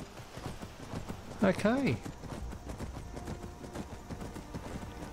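Wild horse in Skyrim trotting, quick clip-clopping hoofbeats running underneath, with a brief loud whinny-like call in the middle and someone speaking briefly over it.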